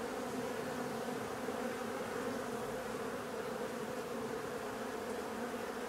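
A large honeybee colony hums steadily at a hive whose honey super is packed full, a dense, continuous close-range buzz of many bees with no speech.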